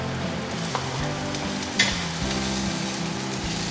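Ginger, garlic and onion sauté in hot oil, giving a steady, close sizzle with a soft clink partway through.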